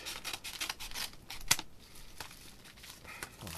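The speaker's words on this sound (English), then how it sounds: "so just gonna cut from the side carefully." Scissors cutting open the side of Japanese Pokemon XY Xerneas movie promo packaging, faint close snips and crinkling plastic rustles, with one sharper snip partway through.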